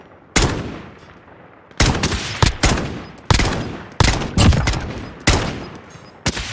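Sniper rifle shots in a video game: about eight sharp, loud single reports spaced roughly a second apart, each with a short decaying tail, close and with no talk.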